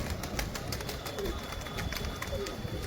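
Pigeons coo softly in a loft or on a rooftop, low murmuring calls under steady broadband background noise and faint clicks, with no clear voices.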